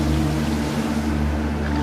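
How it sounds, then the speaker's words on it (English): Strong wind and large waves churn across a lake, a steady low rushing roar with a constant hum that fills the whole stretch without any talking. "a strong wind began to blow, making large waves"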